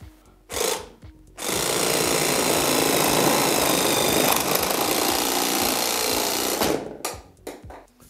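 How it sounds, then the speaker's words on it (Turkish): A hand saw cuts through a pipe being made into a musical instrument, giving about five seconds of dense, steady, rasping noise close by, with brief scrapes before and after. "Testereyle keselim."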